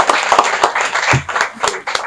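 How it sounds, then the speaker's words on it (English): An audience at a Nigerian business event claps in a loud, steady round of applause, with some voices mixed in. "So clap for him again."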